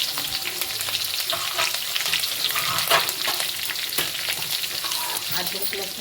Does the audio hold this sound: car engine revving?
no